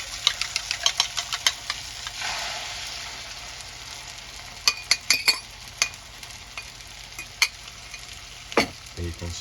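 Eggs poured into a pan beside sautéed mushrooms and vegetables for an omelette, with a soft sizzle under bursts of clicking and scraping utensil taps on the pan, close and intermittent.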